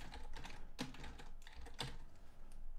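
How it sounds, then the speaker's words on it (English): Fingers tap on a computer keyboard while writing code, quiet rapid clicks in an uneven rhythm with a couple of firmer key strikes. "So I can type double quotes"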